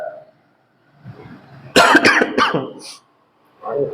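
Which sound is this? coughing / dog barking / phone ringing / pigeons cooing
coughing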